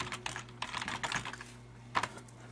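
A password being typed on a computer keyboard: quiet, uneven clusters of key clicks with short pauses and one sharper keystroke near the end, with no voices.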